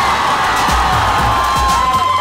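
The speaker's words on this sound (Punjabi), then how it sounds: "ਸੋ ਇੱਕ ਵਾਰ ਜ਼ੋਰਦਾਰ ਤਾੜੀ" A college crowd cheers and shouts loudly and continuously, with whoops and yells layered over a steady roar of voices; individual clapping is not distinct.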